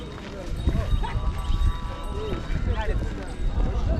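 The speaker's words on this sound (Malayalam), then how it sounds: "ഒരുപാട് ആൾക്കാർ കാളവണ്ടിയിൽ വരുന്നുണ്ട്" Steady clip-clopping bullock cart hooves pass close by on a road near the Adiyogi Shiva statue, mixed with background voices and crowded street bustle.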